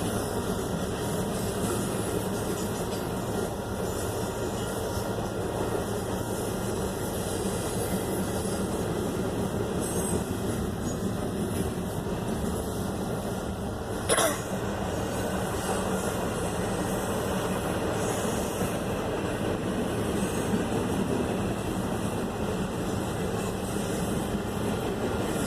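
A train rumbles past a bridge in Illinois, heard as a steady, continuous low roar and drone that holds at an even level throughout, with a brief sharp click midway and no talking.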